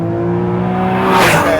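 Porsche Cayman S engine accelerating hard out of the last corner on a race track, its pitch climbing steadily and swelling louder toward the end, close and alone.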